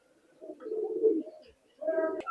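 Pakistani high flying pigeons coo inside a loft, a couple of soft low burbling phrases close by with a short gap between them and no talk over them.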